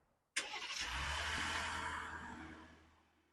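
Remote start of a 2025 Ram 1500 Laramie's Hurricane engine: sudden crank and catch, then a smooth idle that settles and fades slightly over a few seconds, alone and fairly quiet.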